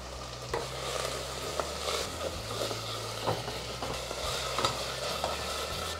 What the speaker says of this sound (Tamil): அப்படியே கொஞ்சம் கிளறி விட்டுக்கிட்டே இருங்க.